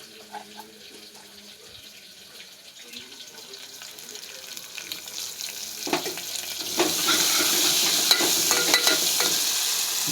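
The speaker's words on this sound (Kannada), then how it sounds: "ಎಣ್ಣೆಯಲ್ಲಿ ಚೆನ್ನಾಗಿ ಹುರ್ಕೋಬೇಕು" Crushed garlic, onion and coriander leaves fry in oil, starting as a quiet crackle with some clinking and then swelling into a loud, hissing sizzle once more goes into the pan, close and continuous.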